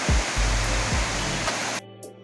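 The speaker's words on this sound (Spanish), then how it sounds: "ya que estaba cayendo la lluvia bien fuerte" Heavy rain pours in a dense, steady roar with low rumbling, then cuts off abruptly near the end, leaving near silence.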